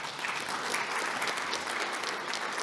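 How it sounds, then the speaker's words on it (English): An audience at a fireside chat on AI and data claps for a speaker, producing a steady, close, fairly loud patter of applause with no talking over it. "let's give a round of applause for Ms."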